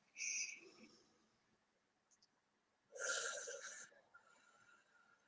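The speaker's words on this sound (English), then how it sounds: "Let's take 3 full deep breaths." Two long, deep breaths, a slow inhale and exhale each, heard close and fairly quiet, separated by a few seconds of near silence.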